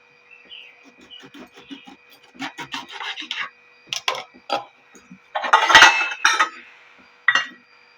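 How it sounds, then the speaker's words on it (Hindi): A knife cuts through two large lemons on a kitchen board, giving a string of short scraping and slicing sounds with a few sharper clicks, close and fairly loud. "अब मैं ये नींबू काट लूँ, क्योंकि इसी से दूध फाड़ूंगी।"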